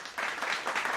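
Applause from a small group celebrating reaching 575 subscribers, a steady patter of hand claps at moderate volume after a brief quieter start, with no talking.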